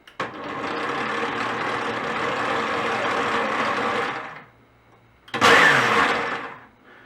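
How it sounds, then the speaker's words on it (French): Kenwood Major KMM770 kitchen machine with its blender attachment running, a loud steady motor whine for about four seconds, a brief pause, then a second burst that winds down. "Et on remarque évidemment que les 3 moteurs fonctionnent en même temps."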